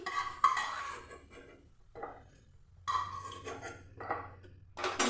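Fried raisins being lifted out of a pan of ghee with a metal utensil: a few separate clinks and scrapes against the pan, close and fairly quiet, with short silent gaps between them.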